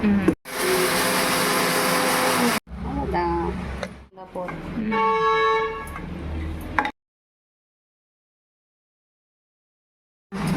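A mixer grinder grinds raw rice and a piece of coconut for a traditional kulambu, a loud steady whir running alone for about two seconds before stopping, followed by clattering and talk.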